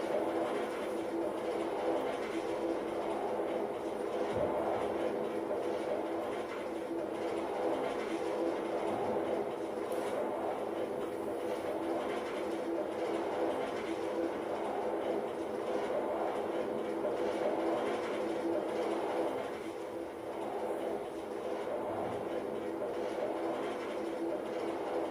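Train wagons rolling on rails, a steady continuous rumble with faint rhythmic rail clatter sustained throughout, fairly close and even in level, with no talking.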